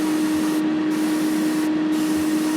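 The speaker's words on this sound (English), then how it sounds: "hardly got any drawback on the airbrush trigger at all" An airbrush sprays paint onto a 1/48 Airfix Messerschmitt Bf 109E model aircraft with the trigger barely drawn back. The hiss is steady and close, with a constant tonal hum underneath and two short breaks in its airy top.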